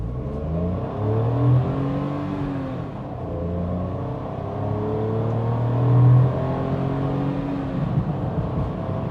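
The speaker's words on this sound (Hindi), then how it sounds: "RPMs बहुत ज़्यादा हाई जाने वाले हैं। बट आपको दिखा देता हूँ एक बार पिकअप कैसा रहता है इस गाड़ी का" A 2023 Maruti Alto K10 with an AGS automated gearbox accelerating hard from inside the cabin, the engine revving high in repeated rising pulls with short drops at each shift and a steady road rumble underneath.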